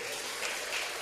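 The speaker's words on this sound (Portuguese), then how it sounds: "Você pode aplaudir ao Senhor?" Church congregation applauding the Lord during a family worship service, a steady wash of clapping from many hands filling the room throughout, fairly even in level with no voices standing out.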